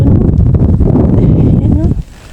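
Strong wind roars over the microphone on a mountain peak at Mt. Banoy in Batangas, a loud, buffeting rumble that drops off abruptly near the end, with a voice faintly present beneath.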